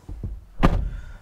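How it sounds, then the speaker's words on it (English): A car door on a 2022 Toyota Camry TRD sedan is slammed shut once, a single close, fairly loud thunk with a slightly tinny ring, preceded by faint handling noises. "the door has a somewhat tinny sound to the slam"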